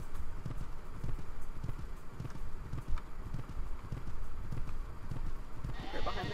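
Horse hooves clip-clop steadily through a Saddle Club video game scene at Willowbrook Stables, a rhythmic run of close, moderately loud hoof steps over game ambience, with no talk.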